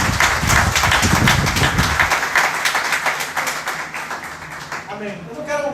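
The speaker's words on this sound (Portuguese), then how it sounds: "Dê uma salva de palmas ao Senhor" A church congregation in Rio de Janeiro claps for the Lord, a loud dense burst of applause that thins into scattered claps, then a voice begins speaking at the close.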